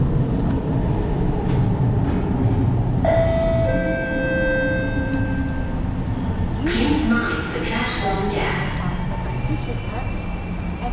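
A metro train arrives at a Singapore MRT station amid crowd noise, with high metallic squeals and whines from the wheels or brakes as it moves.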